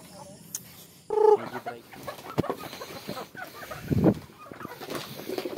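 Chickens cluck and squawk nearby in a busy, uneven chorus, with scattered knocks and rustling, as they crowd around feed mixed with coconut pulp.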